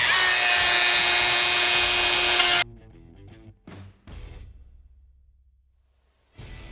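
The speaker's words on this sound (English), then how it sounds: "We're going to cut the tabs out, give them a quick sanding, and oil them up." Wooden tabs for coat hooks are cut with a loud, steady power-tool whine, then short rasping sanding strokes follow in separate bursts, with one more burst at the end.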